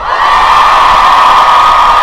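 Large audience at a Harry Potter celebration evening tribute, a continuous loud wall of cheering, screaming and whooping that swells within a moment and holds steady throughout.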